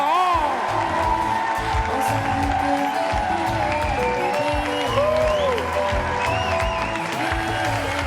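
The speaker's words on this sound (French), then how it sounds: "Maximum d'applaudissements" Audience applause and cheering for a female zouk singer at a live zouk music show, a steady loud wash of clapping and crowd noise over lingering music, with an announcer's voice talking over it.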